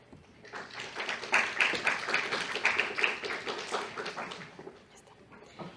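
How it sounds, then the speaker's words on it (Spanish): Audience applause welcoming a head and neck surgeon to a medical lecture, a crowd of clapping hands swelling up, holding steady for a few seconds, then tapering off, moderately loud in a room. "La recibimos con un fuerte aplauso, por favor."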